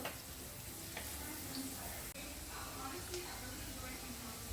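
Onions sizzle steadily in a pan for a fish curry, a constant hissing fry with faint stirring clicks, continuous and close throughout.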